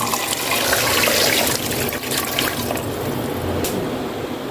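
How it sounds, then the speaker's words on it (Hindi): A jug of water is poured into a cooking pot of beef paya, a loud, continuous splashing gush that runs steadily throughout with no voices. "अब हम पानी डालेंगे।"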